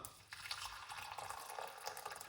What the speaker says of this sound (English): pour some hot water